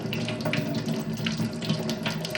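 A household kitchen tap runs in a steady, close splashing stream of water, continuous and alone with no voices.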